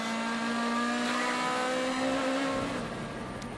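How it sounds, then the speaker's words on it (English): A DTM race car at Hockenheim brakes hard and downshifts through its gearbox, the engine note stepping down in pitch under loud, continuous onboard roar. "Heavy braking now down through the gearbox, as you can hear"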